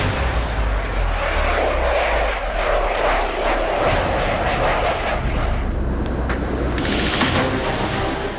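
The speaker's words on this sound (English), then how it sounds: "The Rafale is a beast of a jet, powered by twin-jet engines" A Rafale twin-engine fighter jet roars loudly and continuously, a broad rushing engine blast with rumbling low end that swells and shifts near the end, no speech heard.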